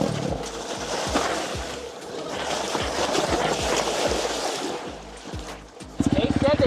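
NIU XQi3 72V electric dirt bike splashing through water on a trail, a steady rushing wash of spray and churning water with brief knocks, and people talking over it before a sharper rattling burst at the end.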